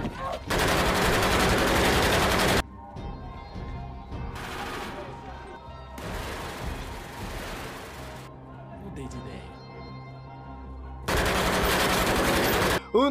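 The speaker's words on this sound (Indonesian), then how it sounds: "Mereka bahkan masuk ke sel Magisdet dan menembak teman-temannya termasuk Ezekiel." Rapid automatic gunfire blasts in long loud bursts during a prison shootout scene in a film, separated by quieter stretches of clatter and a narrating voice.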